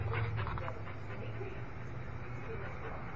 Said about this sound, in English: hyperest dog ever.